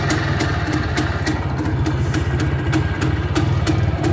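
An IZh Planeta 2 motorcycle engine idles close by, a loud, steady, rapid single-cylinder thump with a rattling edge throughout.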